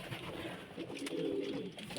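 Pigeons coo steadily in a low, throaty murmur, close by and continuous, with soft rustling around them in what sounds like a small indoor loft holding young birds.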